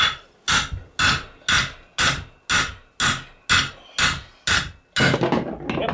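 A hammer knocks out a lower front ball joint on a 2008 Dodge Avenger, about ten strikes in a steady rhythm. The sharp, close metallic knocks are followed by a brief scraping clatter as the part flies across the floor.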